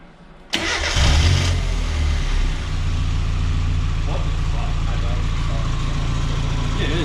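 A Mazda MX5 with a fuel pipe fault cranks and catches abruptly, then settles into a steady, loud idle close by, while people talk over it.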